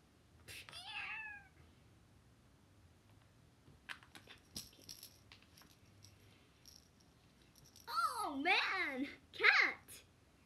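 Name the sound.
cat meowing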